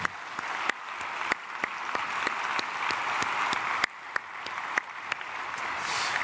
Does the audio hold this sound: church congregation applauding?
yes